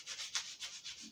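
Wooden figure being sanded by hand, with steady back-and-forth strokes making soft, raspy rubbing sounds in an even rhythm of about five passes, close and quiet.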